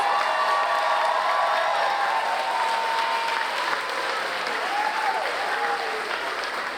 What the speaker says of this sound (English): let's have an applause for all of the graduates of 2026